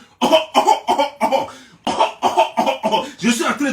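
A rapid run of harsh, close coughs in two bursts, each made of several quick hacks in an uneven rhythm, loud and alone.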